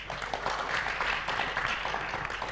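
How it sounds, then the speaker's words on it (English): Audience applause at a book festival reading: a steady, dense wash of many hands clapping, moderately distant, sustained evenly throughout without voices on top. "Can we have a round of applause for him?"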